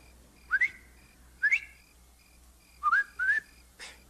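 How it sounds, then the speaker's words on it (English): A man whistles a signal, four short rising two-note calls with gaps between them, clear and fairly close, on an old Western set. "If you see or hear anything wrong, whistle like this."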